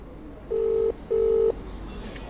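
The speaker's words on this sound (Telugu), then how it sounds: "మళ్ళీ రింగ్ అవుతుంది." Telephone ringback tone on a call: two steady, even electronic tone bursts separated by a short pause, clear and alone against a quiet line hiss.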